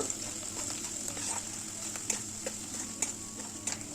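Ground spices and Kashmiri chilli powder stirred in a pan for Bengali doi katla, giving a steady close-up sizzle with soft scraping ticks throughout and no talking.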